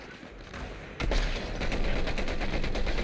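Rapid Fortnite gunfire bursts in a squad match, a dense run of shots starting abruptly and continuing loudly with mechanical clatter underneath, no talk over it.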